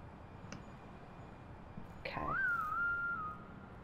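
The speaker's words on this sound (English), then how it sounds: "Do not whistle at me like that, Felix." A single rising then level whistled note rings out clearly for about a second over a quiet background hum, preceded by a couple of faint clicks.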